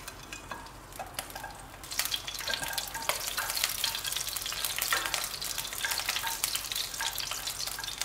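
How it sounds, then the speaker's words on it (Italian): Garlic and chili pepper sauté gently in a pan, giving a steady, close sizzle that swells after the first couple of seconds, with occasional stirring clicks and no talking. "Faccio rosolare l'aglio appena appena, mi raccomando non fatelo bruciare."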